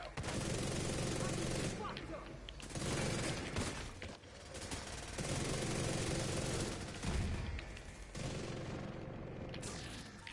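Sustained video game gunfire in The Division 2 comes as dense bursts of rapid shots and heavy volleys, loud and nearly continuous across the stretch, with voices mixed in underneath.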